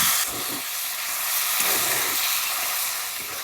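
Masala spices with salt, sugar, chilli powder and turmeric frying in a hot kadai, a steady close sizzling hiss with soft stirring scrapes and no voices.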